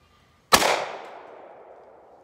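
A single blast from an Akkar 612 short-barrel shotgun outdoors, a sharp loud crack followed by a long fading echo, no other sounds.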